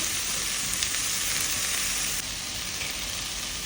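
Onions sautéing in a pan for Thalassery mutton biryani, a steady close sizzle and frying hiss that runs unbroken, dipping slightly partway through, with no voices.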